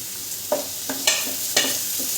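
Chopped tomato sautéing in a pan while fish-masala dishes are prepared, a steady soft sizzle broken by a few stirring scrapes of the spoon, close and moderately loud, with no talking.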